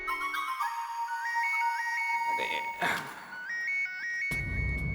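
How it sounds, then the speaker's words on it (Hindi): An electronic phone ringtone plays a repeating melodic pattern, pausing briefly between cycles, while voices talk over it. "बजी, हमारी किस्मत की घंटी बजी। दया बहन का फोन है। बजने दे, मत उठा।"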